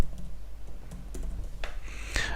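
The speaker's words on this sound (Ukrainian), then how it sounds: "І я просто ввожу свій пароль." Someone types a password on a computer keyboard, giving a short, close run of light, irregular key clicks with no speech.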